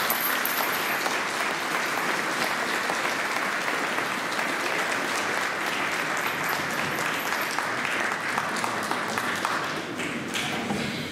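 Crowd at an outdoor living nativity scene applauds for a long, even stretch, many hands clapping densely at mid distance, fading slightly at the end.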